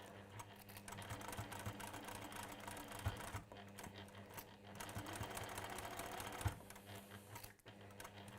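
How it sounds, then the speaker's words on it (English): A sewing machine stitches down a fabric seam in a continuous, quiet run of rapid mechanical chatter, briefly pausing and then resuming. "because I'm stitching down this side, I'm not rucking them back on themselves"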